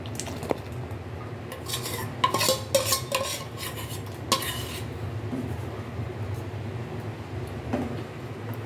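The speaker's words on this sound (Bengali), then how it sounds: "ওটা এখন দুধ দিয়ে গুলিয়ে দিয়ে দেবে।" Ground nuts, sugar and cardamom being stirred into milk: a spoon clinks and scrapes against the vessel in scattered bursts, with a cluster of sharp clinks midway, over a low steady background hum and no talk.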